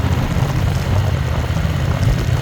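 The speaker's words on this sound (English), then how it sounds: "So you probably hear my engine over everything" A steady, loud engine drone with a low rumbling throb, constant throughout and close by, with no voices.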